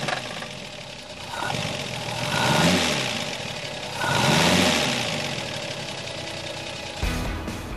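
A vintage BMW 328 roadster's six-cylinder engine, derived from the BMW 326 unit, revs up in two rising-and-falling swells over a steady idle, heard close and loud, with a brief sharp change near the end.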